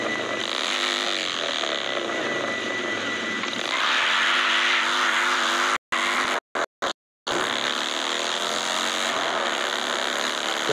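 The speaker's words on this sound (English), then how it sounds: "let's hear the Morgan three-wheeler" Morgan three-wheeler engine in Forza Horizon 5, a loud, continuous raspy engine drone with rising revs, cut by several abrupt brief silences midway before the engine resumes at full volume.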